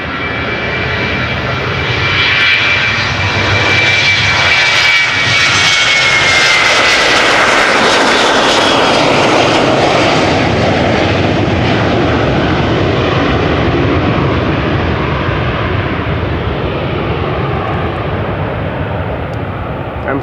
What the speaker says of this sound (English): KLM 737-800 to Edinburgh up next. Coming this way.